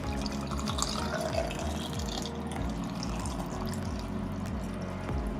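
Water runs steadily into a water filter container during a vinegar fermentation preparation, a continuous splashing fill with a low gurgle that rises in pitch as the vessel fills.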